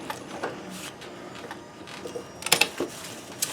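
A Janome 672 oscillating-hook sewing machine stitches with a soft, even mechanical patter, fairly quiet and close, broken by a few sharp clicks and taps near the end, with no talking.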